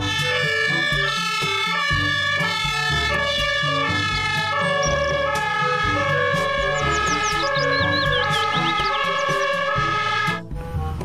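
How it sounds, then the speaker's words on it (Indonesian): A loud, close electronic toy fire-engine siren plays continuously, its tinny tones shifting in a steady repeating pattern before cutting off at the end. "Di sini ada mobil pemadam kebakaran."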